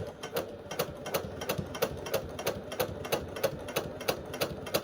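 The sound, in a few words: sewing machine stitching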